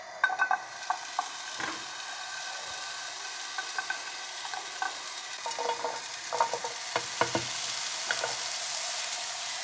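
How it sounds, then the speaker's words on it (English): Peppers frying in two pans for omelettes, a steady sizzle running throughout with small crackles and the occasional tap of a utensil, close and fairly quiet. "So I'm just going to let the pepper cook for a bit now,"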